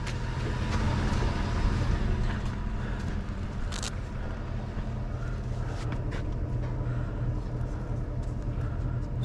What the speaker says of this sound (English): It's like something's rattling under here.